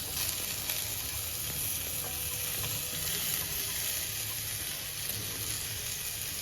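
Pieces of fish frying on a flat tawa griddle, a constant bright sizzle at moderate level, steady and unbroken with no voices over it.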